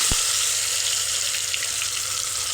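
Cumin seeds sizzle and crackle in hot oil while tempering a curry, a constant close hiss with small pops throughout and no talking.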